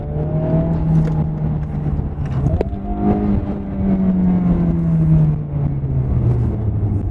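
A 2023 Honda Civic Type R FL5 with an upgraded air intake revs its turbocharged engine, the pitch climbing, dipping and climbing again in a steady, loud drone with no talk over it.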